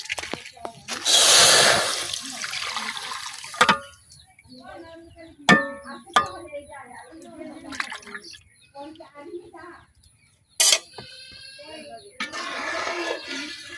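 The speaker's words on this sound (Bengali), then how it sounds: "চাউলের গুঁড়া যে পানি দিয়ে গুলে রাখছিলাম, এখন আমি এটা সরাসরি কড়াইয়ের মধ্যে ঢেলে দিতেছি।" Rice flour mixed with water is poured straight into a hot wok in a village kitchen, making a short rushing splash near the start, followed by quieter clinks while people talk.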